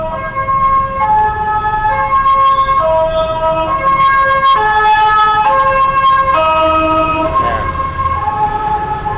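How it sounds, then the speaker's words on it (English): A loud two-tone street siren on a city road in Thailand, repeatedly stepping between alternating pitches, close and steady throughout with traffic rumble underneath; a voice is faintly present. "It's an annoying siren."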